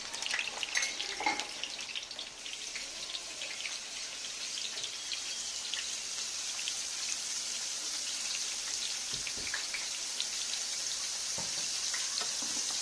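Onions caramelizing in a pan sizzle with a steady, soft hiss and fine crackle, continuous and fairly quiet, with no voices over it.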